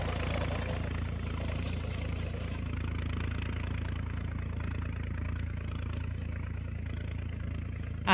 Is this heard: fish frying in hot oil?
no